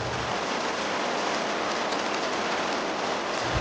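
Cartoon rain sound effect: a dense, even hiss of falling rain fills the whole stretch without a break, with no voices over it.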